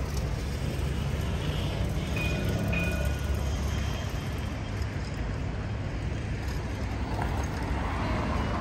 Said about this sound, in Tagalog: Yan yung train nila dito.